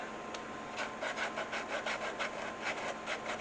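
Coarse sandpaper rubbed back and forth along a leather edge of a phone holster, producing a rapid, rhythmic rasping scratch, close and steady, with no talking.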